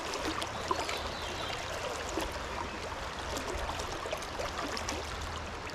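Steady river water rushes and trickles during fly fishing, a constant soft wash of flow with no talking.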